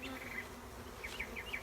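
Honey bees buzzing on a hive frame in a nuc, a close, steady hum with higher whining passes as individual bees move about.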